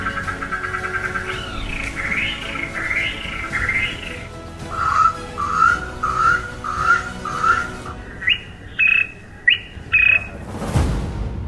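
Birdsong clips played for a birding slide-and-sound category at a safari guide awards night: a series of clear whistled phrases, first wavering calls repeated several times, then lower and higher short chirped notes in rhythmic bursts, close and fairly loud.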